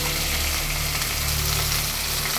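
Salted potatoes fry in hot oil in a pan, a dense, continuous close sizzle with no pauses or other sounds.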